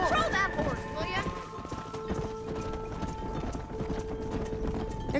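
Horse hooves clip-clop steadily while cattle are herded in the Red Dead Redemption video game, a continuous trotting rhythm heard close with voices talking over it and a brief neigh near the start.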